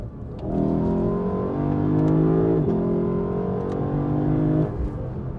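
A Lexus LC 500's 5-liter V8 revs up from idle into a deep, rising roar, dips briefly, climbs again, then drops back to a low idle, heard close and alone.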